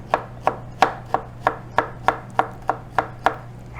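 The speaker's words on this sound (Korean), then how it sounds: "호박을 얇게 채치세요." A knife chops zucchini into thin strips on a cutting board, about a dozen crisp, evenly spaced taps in a steady rhythm, close and clear with no talking.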